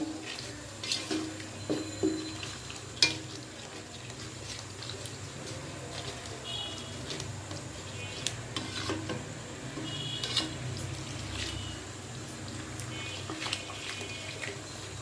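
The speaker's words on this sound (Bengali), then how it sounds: "এই মশলাগুলো আমি একটু ভালো করে মিশিয়ে নিয়ে" Spices being stirred together in a pan for porda biryani, with steady soft scraping and gentle sizzling throughout, punctuated by a few sharper spoon clinks near the start.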